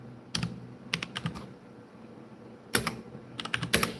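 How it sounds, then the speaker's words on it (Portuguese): Someone types quickly on a computer keyboard in short bursts of clicky keystrokes with quiet pauses between them, close and alone. "Eu vou digitar aqui um hino rapidinho."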